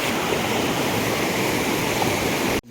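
Floodwater rushes through the open third gate of the Gangrel dam, a steady, loud roar of churning water that fills the whole stretch without pause and cuts off abruptly at the end.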